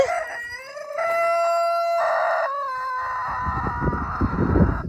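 A rooster crows loudly in a backyard poultry yard, a long harmonic call broken into stepped phrases, followed by scratchy clucking and rustling from the hens nearby, including a neighbour's painted white chickens.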